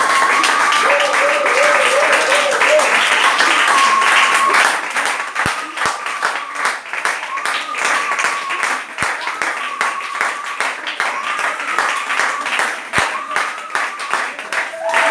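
A church congregation claps steadily and loudly, cheering at the start, then settles into rhythmic clapping while voices call out and sing over it.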